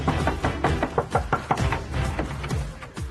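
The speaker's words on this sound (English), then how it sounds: "I hear someone banging on my door." Loud, rapid banging knocks on a hotel room door at night, a dense series of heavy thuds in close succession, heard alone with no talking.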